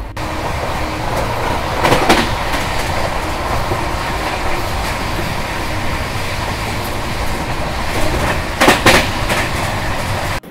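Inside a first AC coach of the August Kranti Rajdhani train while it runs: a steady, loud rolling rumble fills the car, broken by a couple of brief clattering bursts from the wheels.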